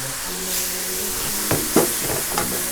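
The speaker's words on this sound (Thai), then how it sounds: "จากนั้นเราก็จะเอาไข่ลงไปผัด" Eggs stir-fried with chili in a hot pan give a continuous close sizzle and hiss, broken by a few sharp spatula knocks and scrapes toward the end.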